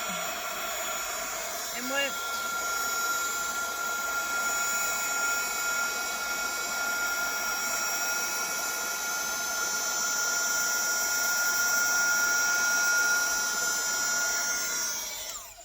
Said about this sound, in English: This is going to be a loud step, but you use your heat tool